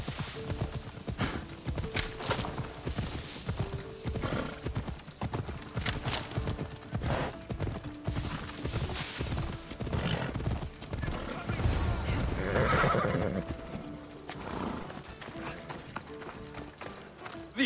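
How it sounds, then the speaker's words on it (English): A horse gallops in the video game Assassin's Creed Odyssey, with rapid rhythmic hoofbeats running throughout and a loud neigh partway through, while voices are heard underneath. "The horse wasn't feeling so good today."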